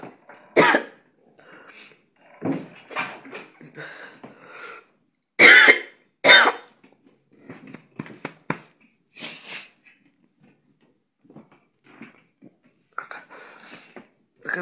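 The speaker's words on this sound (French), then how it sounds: "quand elle commence à tousser comme ça" A person coughing repeatedly in irregular bursts, some harsh and loud, mixed with throat clearing and breathing between them, close to the listener.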